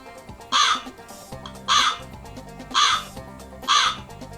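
Crows cawing, four loud harsh caws spaced about a second apart, standing out clearly over a faint background hum.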